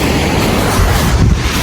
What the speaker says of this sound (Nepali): पिस मजाको हावा चलिरहेको